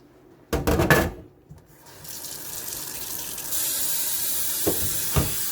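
Water running from a kitchen tap to wet a plate while making Jamaican coconut drops; a steady hiss of flowing water builds and holds, with a few clunks of the plate near the start and end.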